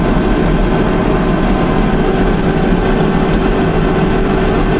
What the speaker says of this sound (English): Verify that fan one is working.